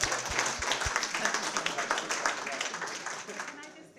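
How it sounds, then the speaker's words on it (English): A workshop audience gives a round of applause, fairly loud and dense with a few low thumps early on, fading toward the end while voices murmur faintly underneath. "Give them a round of applause, please."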